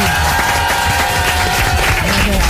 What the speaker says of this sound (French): Est-ce qu'on peut applaudir pour Kevin?